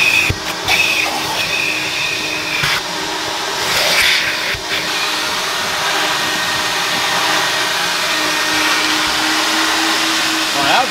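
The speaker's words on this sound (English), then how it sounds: "she's about to start vacuuming" Vacuum cleaner droning steadily indoors at home, loud and close with a constant whine that holds for the whole stretch, a few brief knocks and shifts as it moves.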